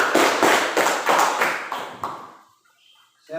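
A classroom group receives a short burst of clapping, about seven evenly spaced claps that hit close and loud, then fade out into near silence.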